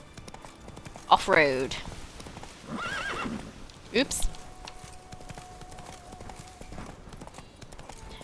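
A horse in The Witcher 3: Blood and Wine whinnies twice, a few seconds apart, over faint clip-clopping hooves; a player talks briefly between the neighs.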